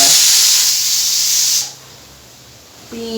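Loud, close steam hiss from a pressure cooker vent, steady for about a second and a half before cutting off abruptly into near silence.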